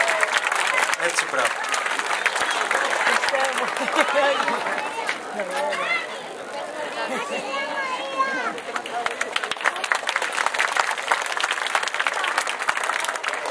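A crowd at a Greek school ceremony honoring top students applauds continuously with dense, lively clapping, while a presenter speaks briefly over it.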